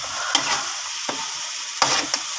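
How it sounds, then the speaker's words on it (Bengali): A spoon stirs spiced pangas fish kaliya in a hot pan over raised heat: a few sharp scraping strokes over a continuous sizzle. "এবার ভালো করে নাড়বো। আঁচটাকে একটু জোরে দিয়ে দেবো।"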